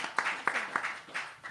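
A few sparse, faint claps from an audience at a national security symposium, short and thin rather than a full round of applause.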